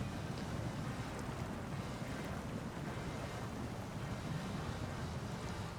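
Constant loud sloshing and rushing water from a truck driving through a deep, muddy river in SnowRunner, steady throughout with a low engine rumble underneath and no talk.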